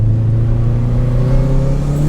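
Tuned high-horsepower small car running on pump gas with an external wastegate, its engine droning loud and steady, close by, with a rising tone as it pulls hard throughout.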